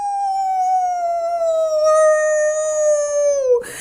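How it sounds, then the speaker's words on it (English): A single long wolf howl, loud and close, glides slowly downward in pitch for over three seconds before breaking off abruptly, with nothing else behind it. "Oh, a wolf howled."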